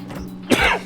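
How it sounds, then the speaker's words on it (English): A single short, dry cough from a person with a parched throat, close and fairly loud after a brief moment of quiet. "I'm really sorry I keep coughing, guys."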